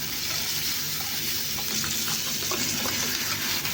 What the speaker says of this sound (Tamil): தக்காளியை போட்டு வணக்கணும்.